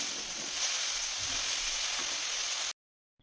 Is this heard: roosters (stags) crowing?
no